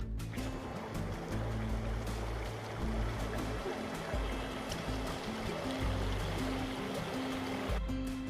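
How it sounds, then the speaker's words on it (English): A creek flows through a mountain meadow with a steady, fairly loud rushing and burbling of water, continuous throughout with a low rumble underneath and no speech. "I just love a meadow with a creek in it."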